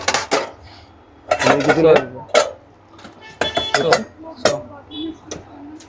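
Steel plates and cups clatter and clink as they are handled and stacked in a busy discount shop, several loud bursts of metallic rattling between stretches of people talking nearby.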